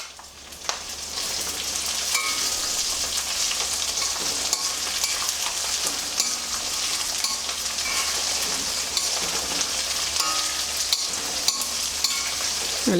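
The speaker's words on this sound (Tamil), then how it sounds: "2 மிளகாவும் இதில் போட்டு வறுத்துற போகிறோம்" Two chillies fry in hot oil in a pan, giving a continuous bright sizzle with scattered pops and crackles plus occasional stirring clinks. It sounds close and steady throughout, with no talking.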